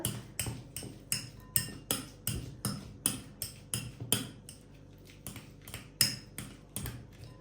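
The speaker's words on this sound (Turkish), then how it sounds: "iki adet haşlanmış patatesimizi güzelce ezelim" Two boiled potatoes being mashed in a bowl, a steady run of sharp rhythmic knocks and thuds repeating roughly twice a second, close and without talk.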